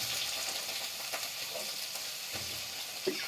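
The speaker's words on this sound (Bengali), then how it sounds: "সবজিটা দিয়ে একটু কষে নিই।" Vegetables fry with dried chilli, nigella seeds and fenugreek in a pan, giving a steady close sizzle with occasional soft stirring scrapes and a small clink near the end, no voices.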